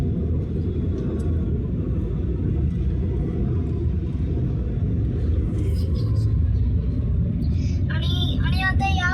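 Steady roar of cars and trucks on the Mumbai Pune expressway, a continuous loud rumbling drone of traffic, with a voice briefly heard near the end.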